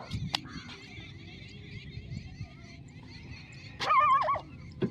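A large pack of around twenty dogs gives scattered barks and yips outdoors, with one louder, nearer burst of barking and whining toward the end.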